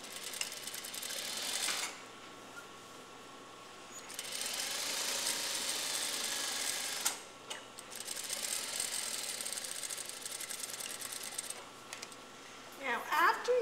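A sewing machine stitches a 3/4-inch seam in bursts, a steady whirring hum that runs for a couple of seconds, stops briefly, then starts again, with soft clicks of the mechanism and a quiet room around it.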